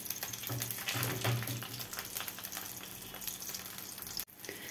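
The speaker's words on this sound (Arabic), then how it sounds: "طاسه حطيت فيها معلقه زبده عشان هحمر فيها حواوشي البطاطس" Potato hawawshi fries in melted butter in a pan, a soft, steady sizzle with some low clattering early on, ending in a brief knock and a short dip.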